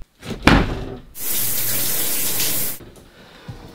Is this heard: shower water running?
yes